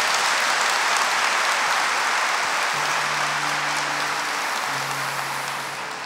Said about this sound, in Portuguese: Vamos aplaudir esses que também estão lá fora.